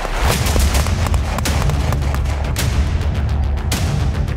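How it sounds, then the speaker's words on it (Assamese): Bomb blasts and gunfire from attacks in the Ukraine war: loud, dense rumbling booms and sharp cracks overlapping continuously with no pause, close and heavy throughout. "ইউক্ৰেইনৰ বিভিন্ন প্ৰান্তত বোমা বিস্ফোৰণ আকাশমাৰ্গেৰে ধাৰাসাৰ আক্ৰমণ কৰি আহিছে"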